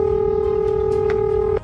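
A telephone gives a steady, single electronic tone that holds evenly for about a second and a half, then cuts off abruptly.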